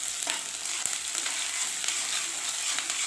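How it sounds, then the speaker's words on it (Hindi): Onions frying in hot oil for green pea dal give a dense, even sizzle with faint stirring clicks, close and continuous with no voices. "और डालते हैं जो प्याज है ये डालकर अच्छे से थोड़ा सा इसको सुनहरा कर लेते हैं"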